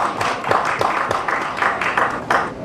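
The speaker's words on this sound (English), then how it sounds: "A round of applause for Uganda for that." Audience at a UK–Uganda trade summit breaking into applause, a steady patter of many hands clapping in a hall, fairly close and uninterrupted.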